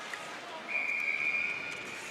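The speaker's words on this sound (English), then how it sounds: "Whistle on the action." A referee's whistle at a para ice hockey game gives one sustained, shrill blast of about a second over the murmur of an arena crowd.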